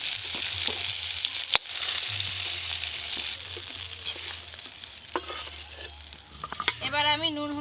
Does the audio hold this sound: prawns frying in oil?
yes